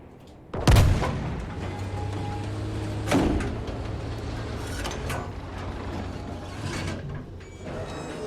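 Tank cannons fire in a video game tank battle: a heavy boom near the start and a second blast about two seconds later, both over a steady mechanical engine rumble and clanking tracks.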